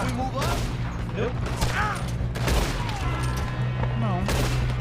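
Rapid gunfire bursts from the video game Red Dead Redemption 2, a dense run of overlapping shots fired close together, heard over a steady game soundtrack and effects with no pauses.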